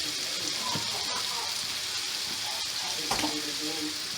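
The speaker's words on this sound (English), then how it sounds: "I'm just going to fry these few potatoes up real quick" Potatoes fry in olive oil with garlic powder, salt and pepper in a skillet, giving a steady close hiss and sizzle, with occasional clinks of stirring and a voice speaking faintly underneath.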